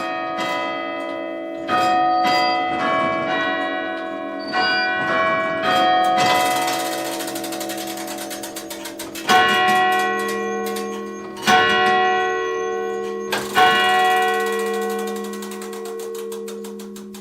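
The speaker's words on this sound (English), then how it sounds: "We can see and hear it all in motion as the clock chimes and then strikes." Bampton church clock in its bell chamber, chiming a sequence of ringing bell tones and then striking the hour with several resonant, evenly spaced strokes, close and loud with long decays and faint mechanism ticking between.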